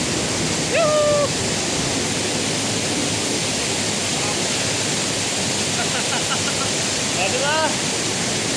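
Cantina Waterfall pouring steadily as a broad, constant rush of water, with bird calls chirping briefly over it and faint voices in the background.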